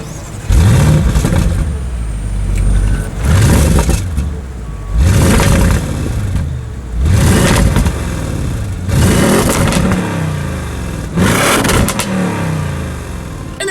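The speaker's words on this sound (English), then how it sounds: "there is a sport exhaust with black outlets, so as always, here is that exhaust clip." A 2017 Audi RS7 with a black-tipped sport exhaust revs loudly six times at an even pace, each rise and fall a deep, close, throaty burst with no talking.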